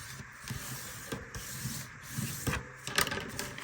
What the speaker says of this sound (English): I will burnish it with my bone folder